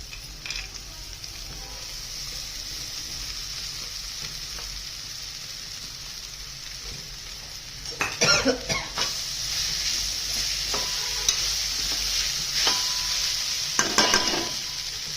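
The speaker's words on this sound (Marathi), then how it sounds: "आता याच्यामध्ये शेंगदाणे आणि पोहे टाकून घ्यायचे" Peanuts and poha stir-frying in a pan, a steady close sizzle with a few bursts of spoon scrapes and clinks partway through.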